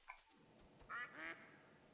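Mallard ducks quack a few times in theHunter: Call of the Wild, in a coastal hunting area, as a small flock flies in, the short nasal calls faint and somewhat distant over quiet ambience.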